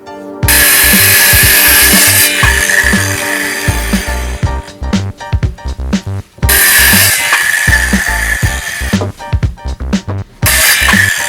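A power saw cuts 2x4 wooden studs to length while framing a tiny house, two long loud runs of whining blade noise broken by a short pause, ending with a brief third burst, no talk.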